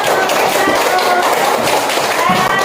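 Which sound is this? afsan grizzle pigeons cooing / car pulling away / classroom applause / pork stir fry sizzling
classroom applause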